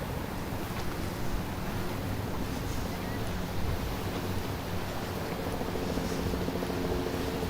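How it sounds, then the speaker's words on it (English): Helicopter flying over Manhattan in New York City, a steady rumbling rotor drone heard at a distance under a dense city wash, continuous and without talk. "That's a helicopter this time."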